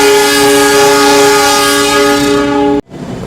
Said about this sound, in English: But this is the loud part of the train.